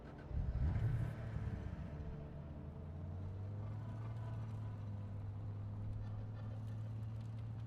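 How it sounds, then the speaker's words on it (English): Car engine in the video game Cyberpunk 2077, a steady low rumble and drone that swells briefly at the start, then settles into a continuous even hum with no talking. "We're getting in the car and junk."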